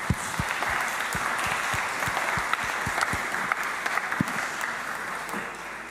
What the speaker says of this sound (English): Do you want to hold up your posters and we'll give you a big round of applause?